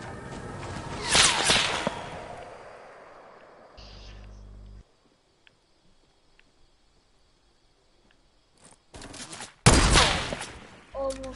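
Gunfire in a shooter video game crackles in sharp bursts, loud volleys near the start and again toward the end, with a few isolated faint shots and near silence in between.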